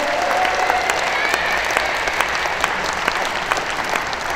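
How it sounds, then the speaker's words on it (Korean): Audience applause in an outdoor performance space after a gayageum byeongchang performance, a dense, loud wash of clapping that holds steady, with a faint whistle or cheer near the start. "우리 수화 가야금 병창단에게 다시 한번 큰 박수 부탁드립니다"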